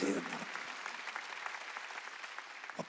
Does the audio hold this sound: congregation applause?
yes